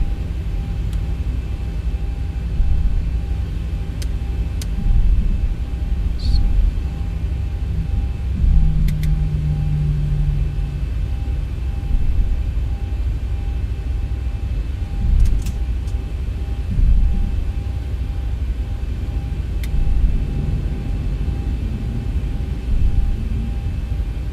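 Aircraft engine in the X-Plane flight simulator, a continuous low droning rumble with a steady tonal whine and slight surges as the throttle shifts, plus occasional faint clicks, no speech.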